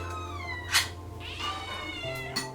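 Kittens meow repeatedly nearby, a series of high, drawn-out cries and short squeaky calls, some overlapping, clear and close over a quiet room.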